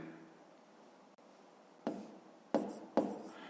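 Pen strokes on paper write numbers for a fifth-grade math exercise, a few short scratchy marks and taps standing out from a quiet background, close and soft with no talk.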